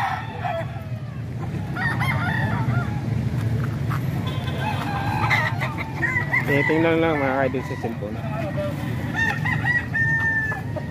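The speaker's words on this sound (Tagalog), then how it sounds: "Ito kay sir to mga manok ko." Chickens cluck and roosters crow at a farm, with one clear crow rising mid-way over constant background clucking and fowl noise, while people talk nearby.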